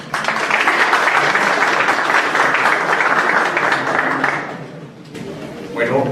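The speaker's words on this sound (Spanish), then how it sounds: "recibamos con un fuerte aplauso" An audience at an academic talk on constitutional actions and prior consultation gives a sustained, loud round of applause that fades out toward the end.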